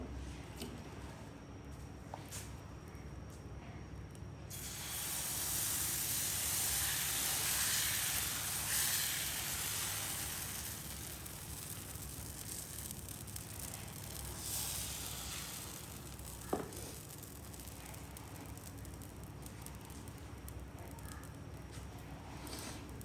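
Dosa batter of urad dal and wheat flour hits a hot pan with a sudden loud hiss that swells, then settles into a quieter, steady sizzle, with a sharp click near the end.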